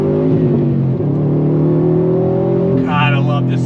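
2018 Subaru WRX STI Type RA accelerating on throttle, a loud engine drone rising steadily in pitch, with a voice talking over it.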